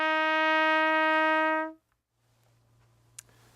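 A trumpet sustains one steady, clear F, fingered with the first valve, for about a second and a half, then cuts off into quiet room noise.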